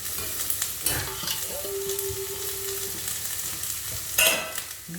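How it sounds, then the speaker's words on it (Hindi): Vegetables sauté in a pan for a hot and sour soup, a close, steady sizzle with scraping stirs and a couple of sharp clatters from the utensil. "ये देखो, ये हमारा सौते हो रहा है।"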